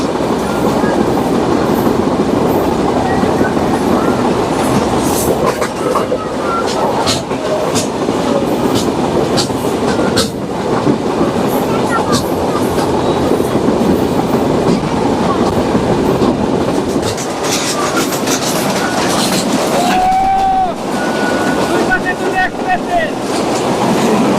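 Chilahati Express train running, a loud steady rumble of wheels on rails with rhythmic clickety-clack throughout, heard from on board; a brief tonal squeal rises near the end.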